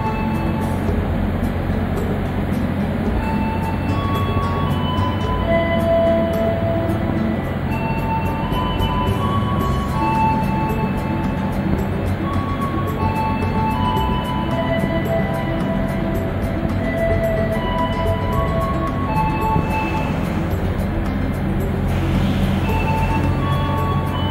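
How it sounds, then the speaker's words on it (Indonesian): The Sancaka Utara passenger train, bound for Cilacap, moves off from a station with a steady, loud rumble of rolling cars and faint tonal squeals and hums throughout, alone without voices. "kereta api Sancaka Utara sesaat lagi akan segera diberangkatkan menuju tujuan akhir stasiun Cilacap"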